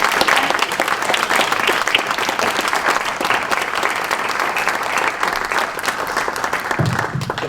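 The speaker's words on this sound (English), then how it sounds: "another round of applause" A seated audience at a civics education event gives sustained, loud applause for several seconds, a dense steady clatter of many hands that barely thins toward the end.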